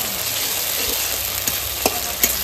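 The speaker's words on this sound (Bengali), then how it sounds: "এখন জিরে বাটা আর ধনে বাটাটা আমি দিয়ে দিচ্ছি" Cumin and coriander paste frying in hot oil for a vegetarian soybean muitha dish, a steady close sizzle with a few brief stirring clinks, no talking.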